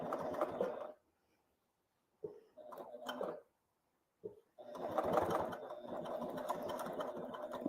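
An HD9 sewing machine stitches leather in loud, close bursts of steady mechanical chatter, broken by brief pauses and short stop-start runs before a long continuous stretch.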